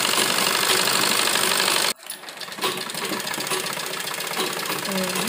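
A sewing machine stitches a round collar with placket on a school uniform, a steady close mechanical whir that cuts out abruptly for a moment before restarting and running on evenly.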